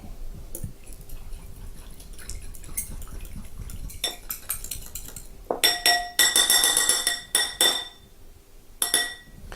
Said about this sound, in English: we're just going to add a little bit of salt and pepper to taste. Whisk it up